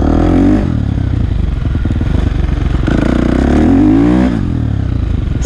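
A light 450cc four-stroke motorcycle engine revs hard and close, its loud, buzzing note swelling and dipping in repeated throttle pulls on a muddy forest trail.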